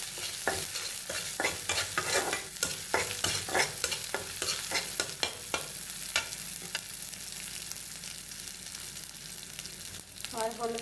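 Ginger-garlic paste with salt and turmeric frying in a pan, a continuous sizzle broken by repeated scraping stirs in an uneven rhythm, close and fairly loud, with a brief clatter near the end.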